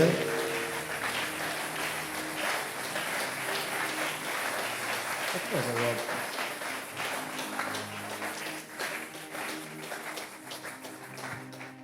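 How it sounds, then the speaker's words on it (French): A church congregation claps steadily for several seconds, with background music and singing voices underneath, the applause gradually thinning out. "Applaudissons l'Éternel des armées."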